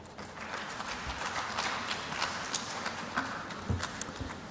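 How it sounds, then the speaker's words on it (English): A conference hall audience in Lusaka gives a sustained round of applause, dense and even, heard from a slight distance at moderate loudness. "Please give him a resounding round of applause."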